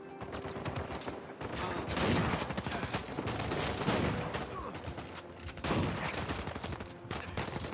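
Rapid gunfire rattles through a fight in the video game Uncharted 4, dense bursts of shots sounding almost continuously over the whole stretch.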